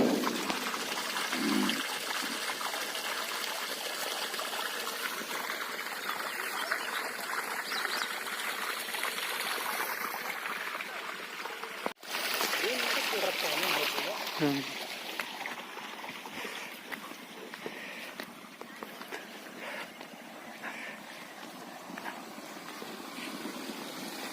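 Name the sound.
water flowing from solar pump into paddy field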